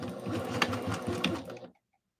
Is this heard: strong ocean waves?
no